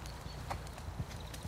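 A horse's hooves clip-clop steadily as it is ridden toward a jump in a riding lesson, a moderate rhythmic beat close by with no talk over it.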